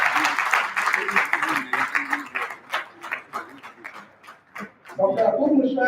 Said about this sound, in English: Around an applause for Dr.